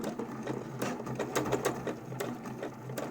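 A sewing machine stitching along the edge of a homemade fabric mask, a close, rapid rhythmic clatter of the needle in short uneven bursts.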